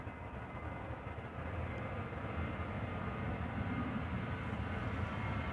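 An airplane rumbles at Amsterdam Schiphol Airport, a steady broadband engine roar that stays even and fairly distant throughout, with no talking.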